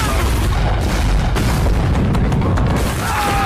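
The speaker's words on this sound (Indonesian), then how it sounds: "Atas keputusan Kapten Flynn, peluru-peluru meriam pun berterbangan." Cannon fire in a pirate-ship battle scene from the Starz series Black Sails: a dense, continuous rumble of booms and bursts fills the whole stretch, loud and close, with no pause between blasts.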